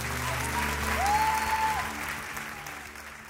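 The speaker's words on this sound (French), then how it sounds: "est-ce qu'on peut l'applaudir encore bien fort?" A church congregation breaks into a sustained round of applause, steady and fairly loud, with a thin held tone drifting above the clapping.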